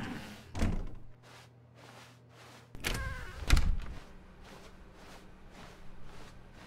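Doors in The Stanley Parable video game thud and knock in a quiet office setting, with two distinct heavier bumps standing out over a soft rhythmic background hum.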